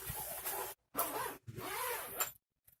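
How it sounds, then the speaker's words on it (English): A suitcase zipper is pulled in three quick, loud rasping strokes separated by short pauses, close up, with a faint rustle after. "Where's the extendy zipper?"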